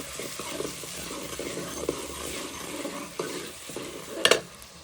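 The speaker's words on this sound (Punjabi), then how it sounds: "ਲੋ ਜੀ ਸਬਜ਼ੀ ਨੂੰ ਲੱਗ ਗਿਆ ਤੁਰਕਾ" Hot tadka tempering hits a pan of vegetable curry and sizzles steadily while a utensil stirs, ending in a short metallic clatter near the close.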